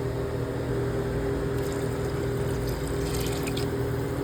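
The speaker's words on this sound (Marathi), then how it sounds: "त्याच्यामध्ये थोडं पाणी टाकूया आपण." Water pours steadily into a cooking pot for khichdi, making a continuous close rushing, gurgling flow from start to end with no voices.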